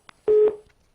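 Telephone line tone on a call-in TV show after a caller's connection drops: a short steady electronic beep, loud and clean, bracketed by faint clicks.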